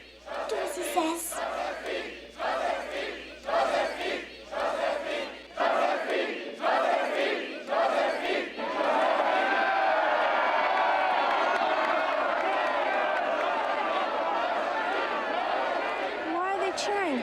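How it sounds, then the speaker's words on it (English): A crowd in a film scene breaks into rhythmic chanting bursts that swell into sustained, loud cheering and roaring, with excited shouts throughout and no clear speech standing out. "Why are they cheering her?"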